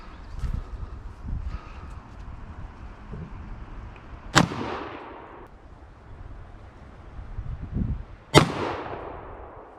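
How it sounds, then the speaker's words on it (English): Two loud, sharp reports from a 12 gauge over-and-under shotgun, about four seconds apart, each decaying into a rolling echo outdoors, with faint background rustle between shots. "the front trigger is going to do the top barrel, the 12 gauge"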